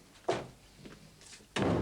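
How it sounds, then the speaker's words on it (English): A door is shut twice in an indoor room: a soft knock-like thud, a quieter pause, then a firmer closing thunk, with no talking. "Shut the door with..."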